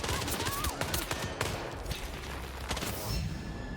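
Rapid bursts of gunfire ring out in Hitman's Mumbai level, a dense fusillade of sharp close shots in the first half, then thinning to scattered cracks, with faint background murmur.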